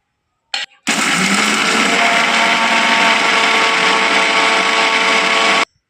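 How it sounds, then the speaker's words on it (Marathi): A brief start-up whir, then a loud, steady high-pitched mixer grinder roars grinding grated coconut for about five seconds before stopping abruptly. "मिक्सरच्या भांड्यामध्ये आपल्याला बारीक करून घ्यायचं आहे"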